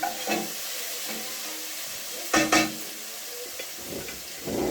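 Two-colour tomatoes, dark and red, sautéing in a pan for a coconut-milk cod dish, giving a steady soft sizzle and hiss with a few louder stirring scrapes partway through.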